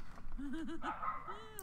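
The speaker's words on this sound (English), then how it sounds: "And I'm so sorry about my dog." A dog gives a brief whining yelp with a wavering pitch, followed by a short higher whine, close and fairly clear over a faint background.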